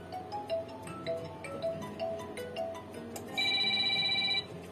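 A mobile phone ringtone plays quietly indoors, a melodic string of short beeping tones that ends in a steadier, brighter buzzing ring, with no talking.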